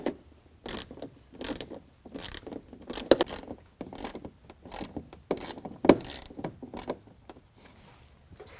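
Ratchet wrench tightening bolt-on fender flare bolts at the front wheel well of a 2021 Ford F-150, a run of quick clicking bursts in short repeated strokes, close and fairly quiet with no talk.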